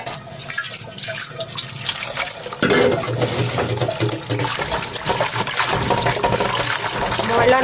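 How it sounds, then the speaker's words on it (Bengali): Leafy greens being rinsed in water in a home kitchen, with steady running and splashing water that gets louder partway through, continuing throughout. "ময়লা নাই, 2-3 ধোয়া দিয়ে নিব।"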